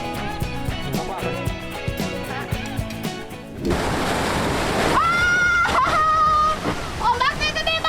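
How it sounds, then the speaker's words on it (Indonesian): Big ocean waves crashing and washing, a broad rushing surge of water rising midway and sustained, following a stretch of music, with brief vocal sounds over the surf. "Ombaknya gede banget"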